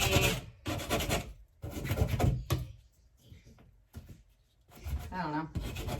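A small putty knife scrapes over filler around wall anchor holes, giving short rasping strokes in bursts close to the microphone, with pauses between passes.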